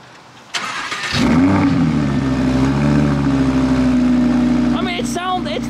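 An Audi R8 engine cranks and fires into a loud, steady idle close by, settling into a deep hum, with people talking over it near the end.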